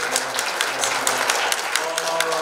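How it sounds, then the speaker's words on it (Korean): An audience applauds after an ambassador's public diplomacy lecture, a dense steady patter of clapping filling the hall, loud and continuous. "다시 한번 큰 박수 한번 보내주시고"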